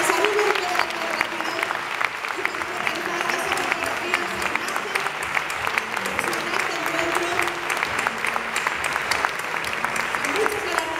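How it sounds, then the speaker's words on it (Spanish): Audience applause at an awards gala in the Teatro Olimpia theatre, sustained crowd clapping with sharp individual claps over a murmur of voices, steady for the whole stretch. "Vamos a recibirlos con un fuerte aplauso para que se animen"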